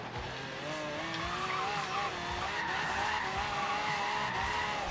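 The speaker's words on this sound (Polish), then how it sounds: "No i tak brzmi, tak brzmi ten samochód" Tuned drift car in Forza Horizon 3 running a strained engine note with squealing, skidding tyres, a steady loud wavering rasp that holds for about five seconds with no talking.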